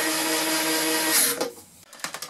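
A small power screwdriver or drill whirs steadily while driving screws back into the lid of a 1990s Sony TC-KE400S cassette deck, then stops, followed by a few light clicks and handling taps up close.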